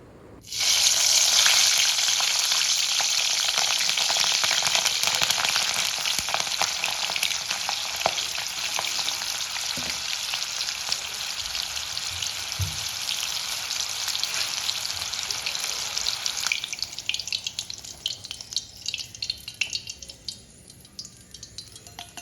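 Loud, steady sizzling of green chillies, slit open, frying in hot oil that slowly quiets, with a few soft clinks near the end and no talking.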